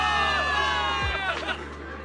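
A crowd cheers and chatters in the video game Zenless Zone Zero, a dense, steady babble of voices with a low hum underneath.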